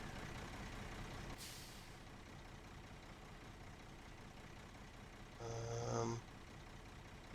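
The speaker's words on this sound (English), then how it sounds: "there's the big truck there" A big truck in SnowRunner idles with a steady low diesel rumble throughout, with a short hiss burst early on and a brief louder air-brake release near the end; no talking.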